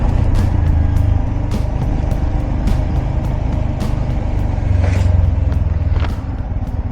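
Riding a motorbike through heavy evening city traffic in Hi-Tech City, near the Financial District: a steady low engine rumble with wind noise and passing vehicles, plus occasional horn-like tones, with no talk.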